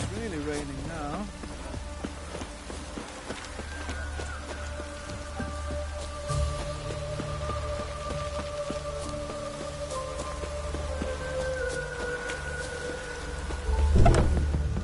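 Steady rain pours in a Witcher 3 game world, a continuous close hiss of drops on surfaces that runs throughout under soft sustained tonal ambience, swelling briefly louder near the end.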